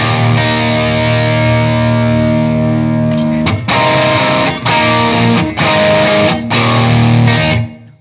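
Electric guitar run through a Gigrig G3 switcher and a Wetter Box with effects in parallel: a loud, sustained distorted chord rings, then four heavy strummed bursts with short gaps, chorused and flanged with a wide modulated shimmer.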